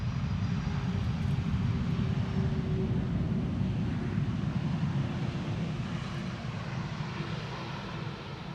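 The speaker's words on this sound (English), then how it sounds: "that's the second 767 of the show, Iceland Air" An Icelandair Boeing 767 airliner at Schiphol gives a steady, loud jet engine roar, dense and low, that fades slightly toward the end with no voices.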